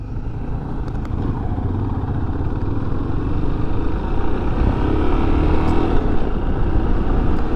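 A Yamaha Ténéré 250 motorcycle rides along with a steady mid-pitched engine drone and low rumble, gradually swelling slightly louder as it goes, with wind noise and no talk.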